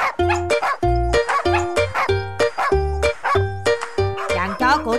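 Cartoon dogs bark in loud, rhythmic, repeated bursts with a tonal, sung quality, set against lively cartoon sound and voices.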